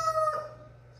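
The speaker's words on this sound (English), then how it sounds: "battle hardened rooster over here." A rooster crows once, a short, bright, close call that fades quickly into a quiet background hum.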